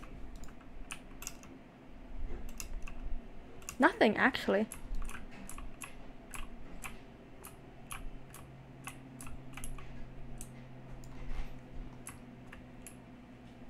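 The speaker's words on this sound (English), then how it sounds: "I have the GK61 keyboard" Steady, fast keystrokes on a GK61 keyboard tick along at low level for the whole stretch, with a brief burst of someone speaking partway through layered over the faint clicking.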